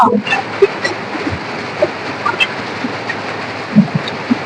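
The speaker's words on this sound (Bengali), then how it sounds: "দারুণ বৃষ্টি শুরু হয়ে গেছে না?" Heavy rain pours in a dense, loud roar during a storm at a wedding house, with a few brief knocks and thuds over the constant downpour.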